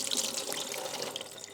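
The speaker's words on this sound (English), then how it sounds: "Now we can take the insert and dump the liquid." Liquid from cooking chicken is poured out of a crock pot insert, splashing steadily for a brief moment, close and fairly loud.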